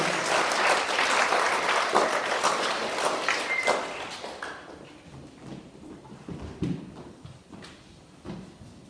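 A school presentation day crowd claps loudly and steadily for about four seconds, then the applause thins out into a few scattered claps and light clatter.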